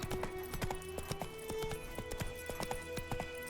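A horse's hooves clip-clop in The Witcher 3, a quiet, brisk, fairly regular run of sharp knocks that continues throughout.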